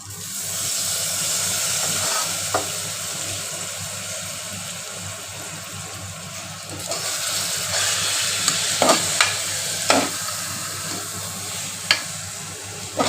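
Dal, rice and masala are stirred in a pot over a steady hiss of steam and frying, and sharp spatula clacks grow more frequent toward the end. No one speaks.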